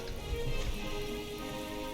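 Rain falls steadily in the farming game My Time at Portia, a dense even hiss of drops with a few soft thuds underneath, continuous and moderately loud.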